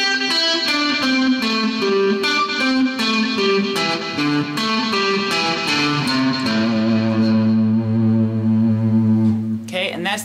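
Electric guitar with distortion plays a pentatonic exercise slowly, a steady run of single picked notes climbing and descending before settling into held lower notes, loud and up close with no talking.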